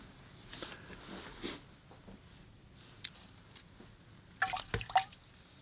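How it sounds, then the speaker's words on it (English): A watercolor paintbrush is rinsed in water, heard as faint drips and small sloshes, quiet and close, with a brief livelier swish near the end. "And then I rinse off my brush and I take off some of the water"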